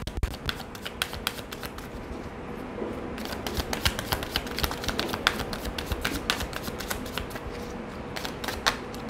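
Tarot cards are shuffled by hand up close, giving a rapid series of crisp riffling clicks and snaps over several seconds, with a soft background hiss and no voices.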